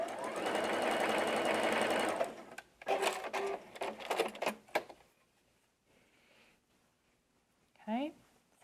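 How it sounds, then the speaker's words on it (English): A sewing machine runs a quarter-inch seam through fabric in a steady, close buzzing stitch burst of about two seconds, then stops; soft handling clicks and a short spoken phrase follow in a quiet room. "I'm going to sew from the beginning of my fabric and I'm going to stop 1 inch before I get to the end"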